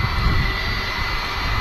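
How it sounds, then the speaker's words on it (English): An aircraft taxiing past the Premier Terminal at Manchester Airport gives a steady, broad jet-engine roar with a deep rumble, constant and fairly close, with no talking. "Another aircraft about to taxi past the Premier Terminal"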